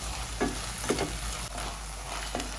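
Tomatoes with salt fry in oil in a pan for tomato bath, a continuous sizzle broken by several stirring scrapes at irregular intervals.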